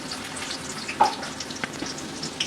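Garlic and onion frying in a pan with leafy greens, a close, continuous crackling sizzle with small sharp pops and stirring scrapes throughout, no voices.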